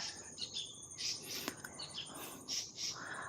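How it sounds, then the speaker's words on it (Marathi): Several birds chirp and tweet in short bursts over a steady outdoor hiss in a Konkan village, with faint insect-like buzzing in the background; no one speaks. "पक्ष्यांचा आवाज आपल्याला येत असेल"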